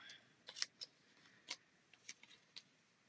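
Scissors snipping off ribbon overhang from the back of a handmade card, several quiet crisp separate cuts spread out with short pauses, close and alone in a quiet room.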